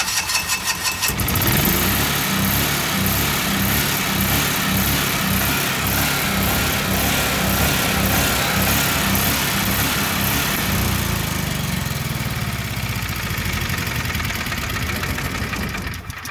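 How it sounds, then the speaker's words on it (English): A Generac generator engine cranks and fires, then runs loudly with its speed hunting, the engine note rising and falling in a repeating surge while the governor is adjusted, with no talking. "Okay, let's crank the engine."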